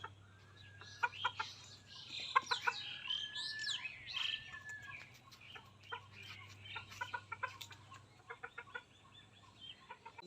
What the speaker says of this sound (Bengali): সকালবেলা সব মুরগি বাহিরে চলে আসছে।